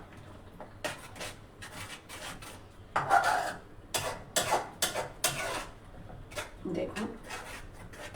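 A spoon scrapes and rubs through thickening orange barfi mixture in a pan, giving repeated rasping strokes at a steady, uneven rhythm, close and fairly quiet, with someone briefly speaking over it.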